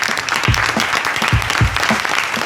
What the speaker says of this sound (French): un tonnerre d'applaudissements pour monsieur Laurent Boukobza